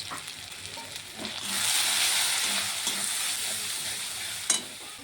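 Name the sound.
spice paste sautéing in a pan for rui fish curry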